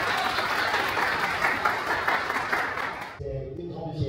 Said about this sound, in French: Est-ce qu'on peut applaudir le staff Agent Livre?